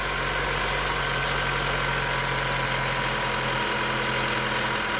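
A 2015 Honda Accord four-cylinder engine idles steadily after a valve cover replacement, a constant close mechanical hum with a light knocking texture and no voices.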